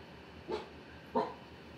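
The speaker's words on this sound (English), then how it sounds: "Hey, no barking." A dog barks twice in a quiet indoor room, two short separate woofs about half a second apart, moderately loud against a faint background.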